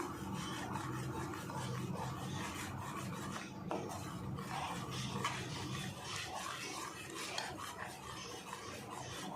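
Thickening mango pulp for aamba poli is stirred in a pan, a steady scraping and rubbing of a spoon against the pan bottom repeating throughout, quiet and close with no talking.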